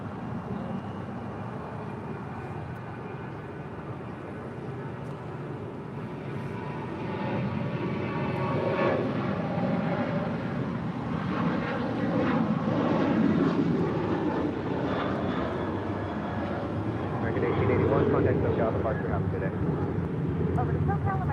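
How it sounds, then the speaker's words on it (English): An American Airlines Boeing 737-800 rolls down runway 25 right at LAX for takeoff to Puerto Vallarta; a low engine rumble swells into a louder roar partway through, with voices heard over it. "737-800 now rolling down 25 right."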